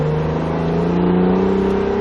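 An Acura NSX accelerates hard on a race track, its engine a loud, steady rising drone that stays close and constant with no talking.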